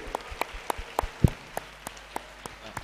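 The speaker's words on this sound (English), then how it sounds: "Shall we give a round of applause to all of us, to all the delegates here." Sparse, scattered clapping from a small gathering of delegates at a professional practice campus event, about a dozen distinct claps at uneven intervals, faint and fairly close.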